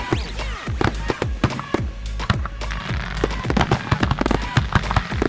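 Canada Day fireworks crackle and pop in rapid-fire bursts, with sharp sizzling cracks overlapping larger booming shells throughout, loud and dense, with no pause between blasts.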